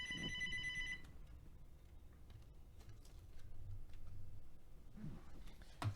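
A telephone rings during a live online show, a short bright electronic ring at the start, followed by faint clicking and room noise at low volume.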